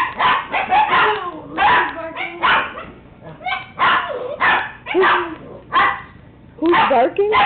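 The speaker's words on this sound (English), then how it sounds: "Who's barking?" Several dogs bark and yip in quick, overlapping bursts, loud and close, mixed with whimpers and high yelps throughout while a person talks over the commotion.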